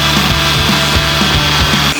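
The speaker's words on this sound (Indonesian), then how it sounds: "Jadi sekarang kita proses ngebor bagian atas sini ya." A close, loud drill grinds steadily through the metal body of a Mitsubishi Triton pickup, with a rhythmic pulsing in the motor's drone.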